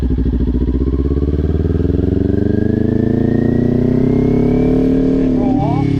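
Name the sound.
motorcycle engine revving as throttle is applied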